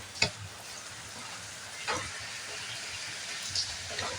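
A tomato paratha cooks on a clay tawa with a steady, soft sizzle and hiss throughout, punctuated by a few light taps or scrapes, close and fairly quiet.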